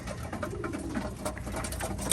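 A racing pigeon, just landed at the end of the season's final race, gives soft low coos close by over faint background noise and a light patter.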